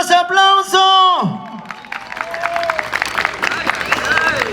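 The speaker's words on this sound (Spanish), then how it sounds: "¿Dónde están los aplausos?" Party applause and crowd cheering for performers at an anniversary celebration, rising after a burst of singing or shouting and continuing as a busy, sustained clatter of hands with voices mixed in.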